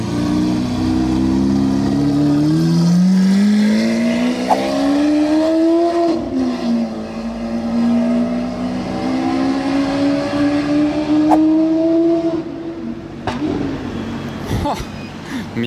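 A hypercar engine revs up and holds a loud, rising roar through an aftermarket Capristo exhaust at night in Monaco, then drops off with crackles near the end.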